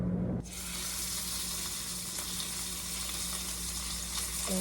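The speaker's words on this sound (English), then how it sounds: "I'm just gonna cook it in butter and like hope for the best" Ribeye steak sizzling in butter in a pan at home, a dense steady hiss that starts abruptly and continues alone without pause.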